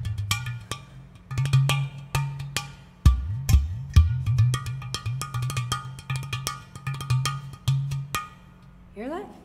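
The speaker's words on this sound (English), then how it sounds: "So this wonderful instrument that I'm playing in front of me is called an udu." Udu, a clay pot drum, played by hand in a quick groove of low, booming bass tones mixed with sharper slaps and clicks, loud and close, with no talking over it.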